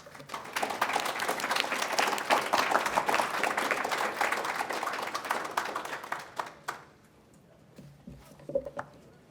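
Audience applause welcoming Monsignor Javier Prades to a lecture on post-secularity at an ethics and culture conference: dense, sustained clapping from a large room that thins out and fades after several seconds, leaving a few scattered claps.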